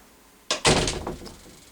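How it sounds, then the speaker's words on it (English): A door in a home theater room swings shut with a soft thud followed by a solid closing thunk, close by and fairly loud, then a brief rattle as it settles in a quiet room. "close the door here."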